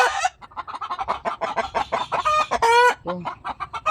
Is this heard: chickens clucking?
yes